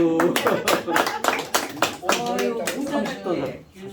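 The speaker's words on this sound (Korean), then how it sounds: "박수" Several people clap in a short burst of sharp, irregular hand claps during a Korean discussion session, heard close and loud with voices speaking and laughing over and between the claps.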